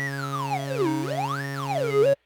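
Synthmaster 3 synth note with filter feedback turned up, a sustained buzzy harmonic tone whose resonant peak sweeps down, up and back down before cutting off abruptly, played alone.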